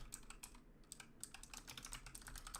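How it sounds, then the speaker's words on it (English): Rapid, uneven typing on a computer keyboard, with quick clicking keystrokes and short pauses, close and quiet with no talking. "Stop typing semicolons."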